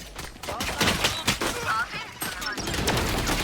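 Rapid gunfire from the video game Valorant, sharp repeated shots in quick bursts, loud and close, with a brief lull partway through before more firing resumes.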